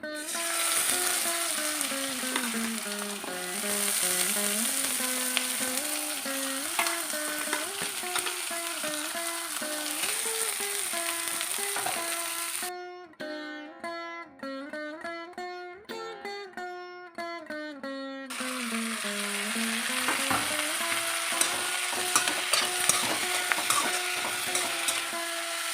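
Chopped large onions fry and get stirred in hot oil with cloves, fennel and cumin for channa masala, a steady close sizzle with stirring scrapes, briefly softer in the middle before the full sizzle returns.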